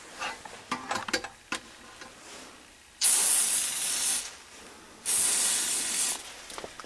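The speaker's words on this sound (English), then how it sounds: "with some silicone spray." Silicone spray lubricating the rubber hop-up bucking of an airsoft AEG, heard as two loud, close hissing bursts of about a second each, after a few quiet handling clicks.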